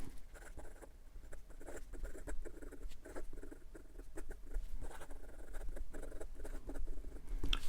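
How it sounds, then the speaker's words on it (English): Nahvalur Original Plus Vac-filler fountain pen writing quickly on paper, a soft continuous scratchy patter of strokes with brief pauses, close and quiet. "And for some quick writing"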